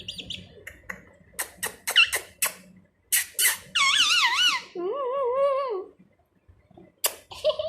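A pet parrot gives close, sharp squeaks and chirps in quick clusters, then longer wavering whistled calls with short gaps of silence between them.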